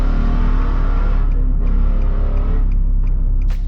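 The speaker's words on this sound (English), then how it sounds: "That Mustang sounds pretty good, actually." A Ford Mustang's engine sounds in a residential neighborhood as a loud, close, rumbling drone that stays steady and then slowly fades over a few seconds, with a faint ticking layered on top.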